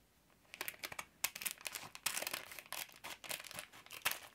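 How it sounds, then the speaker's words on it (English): A small paper bag being cut with scissors and handled, giving quiet, close, irregular crinkling and crisp snipping rustles in quick bursts, with no talking. "I'm just cutting just enough to open the bag, not a lot off"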